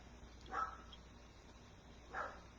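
Two short barks from pet dogs indoors during holiday wreath crafting, moderately distant and separated by a pause, over a quiet room.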